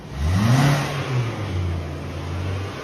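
Car engine revving hard and rough with a diesel-like clatter, one loud rising rev that settles into a lower steady drone, close up with no talk.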